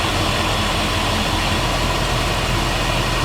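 A 1999–2004 Jeep Grand Cherokee engine idles steadily after an ECM replacement, a loud constant low rumble with no change in pitch or rhythm and no talking.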